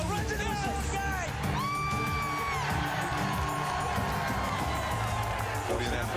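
Stadium crowd at an NFL game, 49ers at Bears in 2001, on its feet roaring and cheering, with whoops and yells rising over a dense, steady wash of noise.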